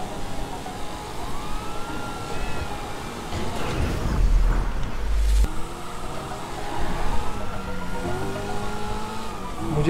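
Police siren in GTA V wails in rising and falling sweeps over a steady car engine and road noise, with a louder burst of crashing noise midway through.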